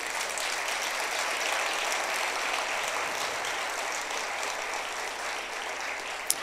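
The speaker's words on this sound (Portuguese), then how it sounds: "Quem crê nessa promessa, aplauda o Senhor." Church congregation applauding during a sermon, a dense, steady wash of many hands clapping at even loudness throughout, with no talk over it.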